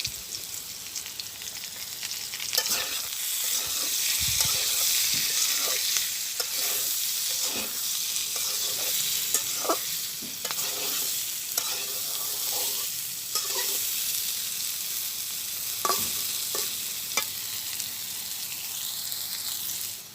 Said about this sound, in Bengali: আর ঢাকা দেবো না, এখন আস্তে আস্তে ভাজি করব